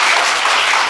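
An audience at a university lecture event applauds, producing a dense, even wash of clapping for just under a second with no voices over it.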